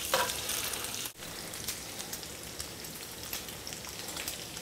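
Bacon frying in a pan, a steady dense crackling sizzle with a brief dropout near the start, close and continuous with no talking.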